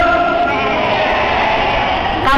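A group of people imitate a goat's bleat together in a loud, sustained, wavering chorus of voices that fills the whole moment and breaks off sharply at the end.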